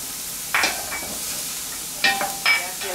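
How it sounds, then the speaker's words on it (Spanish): Soft sizzling of garlic frying in a pan with a few scraping stirs, quiet and close, no talking. "y seguimos friendo. Vamos a darle un par de minutos que el ajo se dore"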